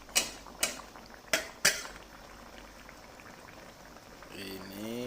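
Chicken gulai being stirred in a pan over medium heat, with four sharp metal utensil clinks against the pan early on, then a soft steady simmer and a voice speaking near the end.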